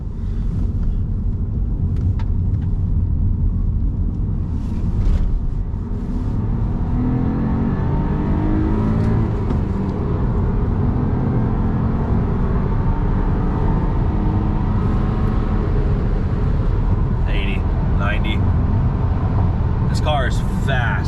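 Honda Accord with a 6-speed manual accelerating hard through a second gear pull, a deep rumbling engine drone heard from inside the cabin, building steadily with a person talking over it.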